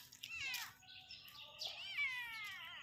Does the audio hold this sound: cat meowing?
yes